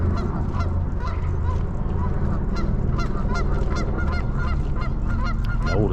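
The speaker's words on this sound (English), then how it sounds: "Geese are creating a racket." A loud, dense chorus of geese honking continuously at Eau Claire Market in Calgary, many birds calling over one another in a noisy, unbroken racket.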